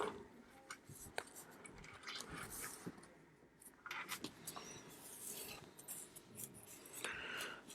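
Scissors cutting felt, with quiet, close snips and rubbing scrapes scattered irregularly over a faint background.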